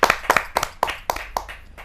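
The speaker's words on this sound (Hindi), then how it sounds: "जोरदार तालियों के साथ अरुण साहिबाबादी जी का स्वागत" Audience at a Hindi Kavi Sammelan poetry gathering claps to welcome the poet Arun Sahibabadi: a series of sharp, evenly spaced clap bursts, close and fairly loud, with no talk over them.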